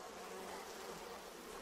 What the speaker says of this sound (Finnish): Kumpa nuo mehiläiset rauhoittuisivat vähän?